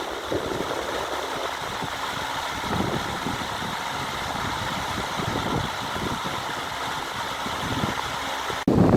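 An electric fan runs about a foot away, giving a steady, close whooshing hum with an even level throughout and a brief thump near the very end.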